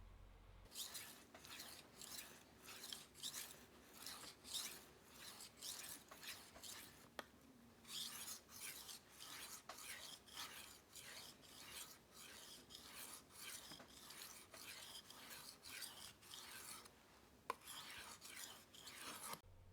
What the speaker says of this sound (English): After a few minutes sharpening on the 6000 grit stone